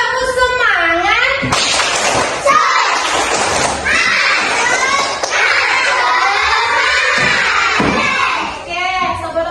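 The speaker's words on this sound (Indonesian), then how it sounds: "coba Ibu mau lihat tepuk semangat" Schoolchildren in a classroom loudly shout a rhythmic spirit chant with bursts of clapping, voices rising and falling in unison close by, opening and ending with an adult voice.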